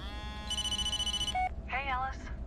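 A mobile phone rings in the Blair Witch video game, a steady harmonic electronic ringtone pattern over low rumbling game ambience, followed by short warbling electronic tones.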